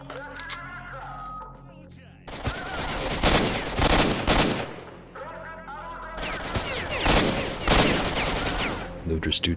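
Heavy gunfire from the S.T.A.L.K.E.R. game rattles in two long, dense stretches of overlapping automatic shots and bursts, loud and close, with a quieter lull of scattered sounds in the opening two seconds.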